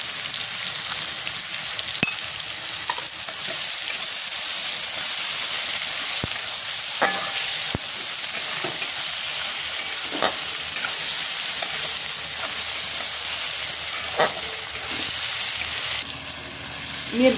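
Chilli, tomato, onion and garlic fry and get stirred in a pan with a pinch of asafoetida, a steady hissing sizzle broken by periodic spoon clicks and scrapes against the metal.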